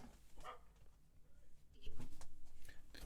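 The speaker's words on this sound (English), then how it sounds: "the dog outside is barking" A dog barks outside, heard faintly through a window in scattered short bursts, with background noise and some movement close by.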